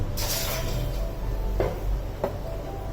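A lid is set onto a cooking pot of mixed vegetable bhaji being steamed with a little added water: two short, sharp metallic clacks over a quiet kitchen background.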